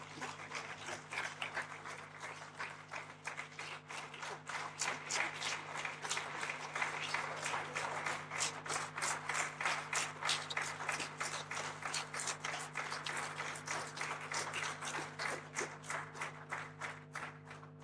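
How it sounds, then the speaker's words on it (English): Audience applause after a formal lecture by a former president, a long, sustained rush of many hands clapping with crisp individual claps, steady and even throughout over a low hum in the hall. "I think we can give him another round of applause"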